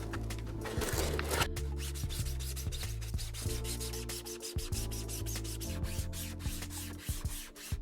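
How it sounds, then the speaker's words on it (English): A 220 grit sanding sponge rubs over a 3D-printed helmet in steady back-and-forth strokes, close and continuous, with repeated rasping scrapes. "I'm actually gonna wrap this sanding sponge with a 220 grit"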